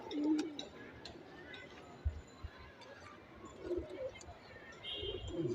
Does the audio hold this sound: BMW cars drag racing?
no